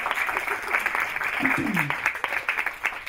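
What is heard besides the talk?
audience applause for a poet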